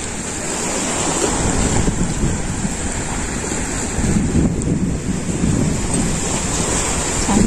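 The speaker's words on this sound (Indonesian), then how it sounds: "dengerin deburan ombak" Ocean waves break and wash onto the beach at Clear Water Bay in Sai Kung, a loud continuous surf roar with surges of crashing water and heavy wind buffeting the microphone, no voices.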